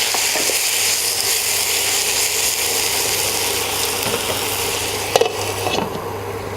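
Tomatoes and masala cook in a pan for a Kerala-style mushroom gravy, giving a steady, loud, close sizzle with a low hum and a few sharp scrapes near the end. No one speaks.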